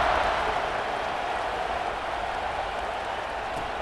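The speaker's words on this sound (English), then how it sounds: "this crowd is buzzing after that last score" A college football stadium crowd in College Football 26 roars in a steady, dense wash of cheering and murmur, loud and unbroken, with no distinct voices rising above it.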